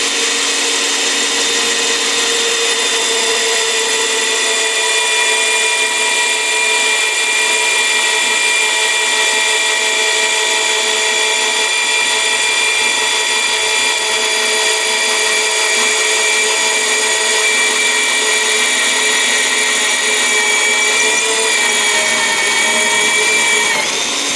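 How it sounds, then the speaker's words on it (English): A power drill bores 7/16-inch holes through the steel frame of a 2010 International truck, a loud, steady, close whine with tonal overtones that holds unbroken for the whole stretch. "Okay, so that's got all of our holes drilled for this side."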